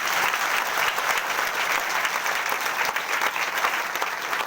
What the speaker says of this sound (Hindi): जोरदार ताली बजा के प्रभु की महिमा करो